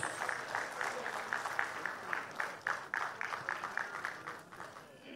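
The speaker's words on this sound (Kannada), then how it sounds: "ನಿಮ್ಮೆಲ್ಲರ ಪ್ರೀತಿಯ ಚಪ್ಪಾಳೆಯೊಂದಿಗೆ ಸ್ವಾಗತಿಸಿ" An audience at a stage event applauds to welcome a guest, giving steady, moderately loud clapping throughout.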